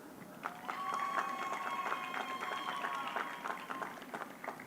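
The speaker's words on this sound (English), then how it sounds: "And we can clap. I am pro clapping." An audience claps through a 2024 May commencement ceremony for liberal arts graduates, a steady, fairly distant patter of many hands that holds evenly throughout at a soft level.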